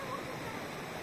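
Rushing water current at Charco de La Piña, a river pool near Baracoa, Cuba, heard as a steady, close, broadband wash of flowing water with no break.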